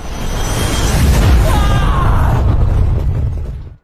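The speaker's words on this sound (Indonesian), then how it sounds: "Hingga akhirnya bola energi itu meledak seiring dengan keberhasilan Xiaoyan mewarisi energi naga." An energy ball bursts in an animated fantasy battle, a loud, dense roaring blast that holds steady for several seconds before cutting off abruptly.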